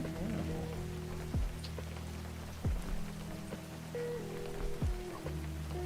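Rain patters steadily across surfaces in a fishing video game, a soft continuous hiss beneath tonal game music and periodic low descending swoosh effects.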